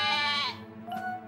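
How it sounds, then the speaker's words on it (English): A sheep bleats once in a cartoon, a near, wavering nasal call that fades away, followed by a softer trailing sound. "Sam did say something about runaway sheep."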